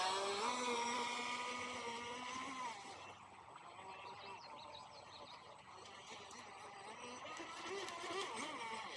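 An RC power boat racer's motor whines across the water, high and buzzing, dipping and surging as the prop lifts and the hull is thrown around, fairly distant and moderate in level.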